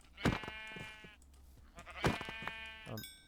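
Two loud bleats from a sheep in Minecraft, about two seconds apart, close and clear with no talking over them.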